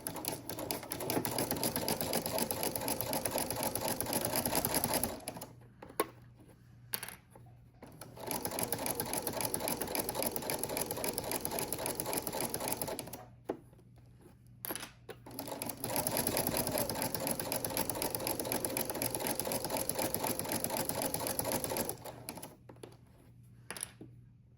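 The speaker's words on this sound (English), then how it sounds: "Go ahead and stitch forward and reverse." A domestic sewing machine runs steadily while stitching a quilted pot holder's quarter-inch seam, whirring loud and close in three long bursts separated by short pauses, with no talk.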